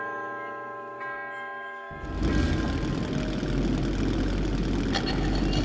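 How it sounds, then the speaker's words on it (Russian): A handcar (drezina) motor from the video game Metro 2033 Redux starts up partway through and settles into a loud, rough, steady running chug. Faint tonal ambience comes first, and no one speaks. "Эй, вы на дрезине! Глуши мотор!"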